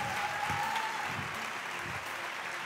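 Audience clapping steadily for two finalists at a grand final held in a theatre, a dense, even applause filling the room from start to finish with no one speaking over it.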